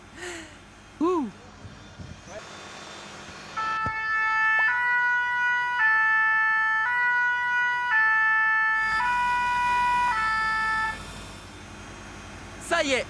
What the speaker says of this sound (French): Et si on activait une de ces petites sirènes?